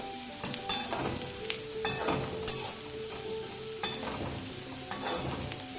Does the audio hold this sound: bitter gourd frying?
yes